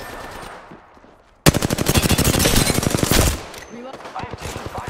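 Gunfire in a video game: a loud, sustained burst of rapid automatic fire lasting about two seconds, following a quieter stretch of background game noise.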